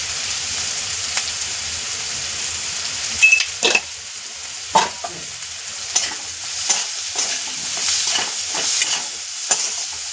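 Spices sautéing in oil for a spicy cluster-bean thecha, with a steady sizzle and a spoon stirring and scraping the pan in irregular strokes, close and alone.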